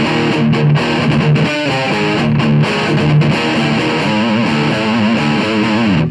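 A 1991 PRS Signature electric guitar plays a rhythm part on the fourth pickup position with split coils, with strummed and picked chords in a lively, slightly driven tone, loud and close with no talking.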